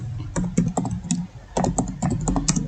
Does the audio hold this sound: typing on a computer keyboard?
yes